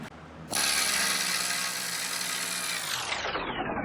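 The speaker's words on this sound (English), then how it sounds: "The needle scaler is a great tool for heavy rust removal." A pneumatic needle scaler hammers heavy rust off a rusty Toyota frame, starting abruptly after a short quiet moment as a loud, dense, buzzing rattle that holds steady before winding down and fading near the end.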